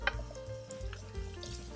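Red onion fries quietly in shrimp oil for an Asian-style shrimp pasta, giving a soft, steady sizzle with tonal music playing over it.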